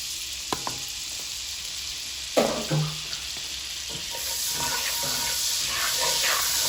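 Butter and oil sizzle in a hot pan while blackened salmon cooks. A few clicks and clatters come first, and then a steady, bright frying hiss builds and holds close to the microphone with no talk.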